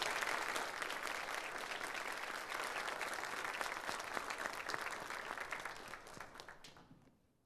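A church congregation at a Catholic Mass gives a full round of applause to acclaim the Gospel reading, dense and sustained, then fading out near the end.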